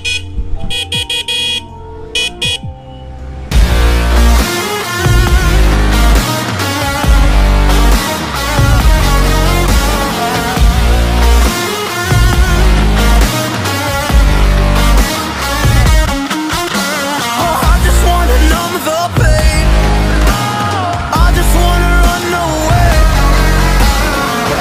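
A modified Hero Splendor Plus motorcycle horn sounds loud and close, with a few sharp tonal honks followed by a long, rhythmic, melodic horn pattern.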